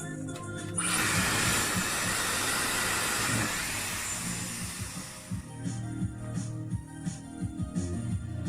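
A Dyson Airwrap blast-dries hair with a loud, close rushing hiss of air for several seconds, then drops to a lower, rougher whoosh as it moves.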